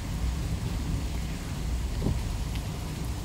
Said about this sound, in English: It's still raining and lightning, but the wind has died down and we're not getting any hail